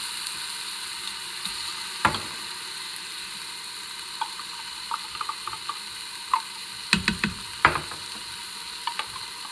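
Onions and mild green chilies sauté in an Instant Pot, with a steady sizzling hiss under scattered spoon clicks and scrapes against the pot, bursting into a cluster of stirring knocks toward the end; no talking.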